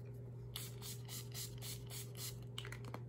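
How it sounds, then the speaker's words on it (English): Several quick spritzes of NYX matte finish setting spray misting onto a face in a soft, hissing sequence, then a few faint taps and rustles; quiet and close. "next I'm going to spray my face."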